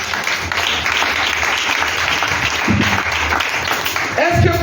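A church congregation applauding during a service, dense sustained clapping mixed with crowd voices and cheers, fairly loud and close.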